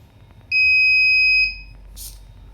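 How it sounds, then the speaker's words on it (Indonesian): A loud, steady electronic buzzer tone from a distance sensor sounds for about a second, then cuts off, followed by a brief hiss. "maka buzzer akan berbunyi ketika jaraknya kurang dari 5 cm."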